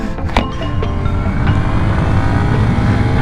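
A 2019 Kawasaki Ninja 125 motorcycle engine while riding, a loud continuous buzzing drone with wind rush, steady throughout.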